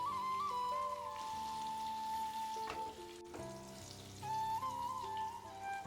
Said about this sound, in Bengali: আলুর মধ্যে স্বাদ মতো একটু নুন আর দিয়ে দেবো খুব সামান্য পরিমাণে একটু হলুদ গুঁড়ো। নুন আর হলুদ গুঁড়োটা আলুর সাথে মিশিয়ে নিয়ে আলুটাকে একটু লাল করে ভেজে নেব।